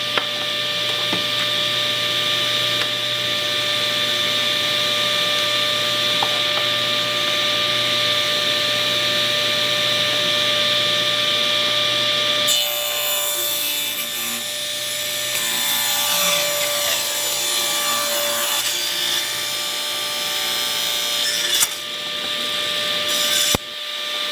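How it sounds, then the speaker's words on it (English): Table saw ripping the edge off a wooden cutting board, a loud steady whine with strong tonal hum, shifting into a rougher, grainier cutting sound midway before easing back. "we're going to run it through the table saw and cut off this edge right here"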